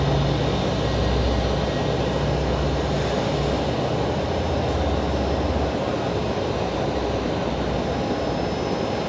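An Airbus A320neo at Brisbane Airport, producing a steady, loud, unbroken jet engine drone heard at a distance with no voices.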